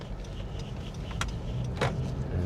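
A Honda CR-V cruising along a smooth paved road in a rural regency, with a steady low road and engine rumble throughout and a couple of brief higher rattles or clicks from the cabin.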